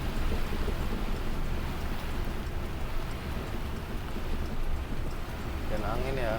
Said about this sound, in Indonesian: Hujannya gede banget teman-teman, hujan angin tuh.